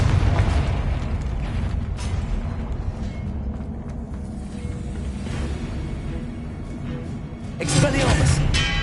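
The Confringo blasting spell in Hogwarts Legacy: rumbling booms and bursts under heavy game noise, ending in a louder, sharper explosive blast near the end.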